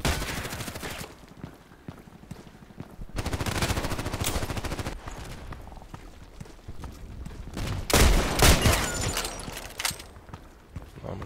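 IZH-43 shotgun shots in the video game Contract Wars, loud booming blasts in several separate bursts with bits of rapid gunfire and footsteps between them.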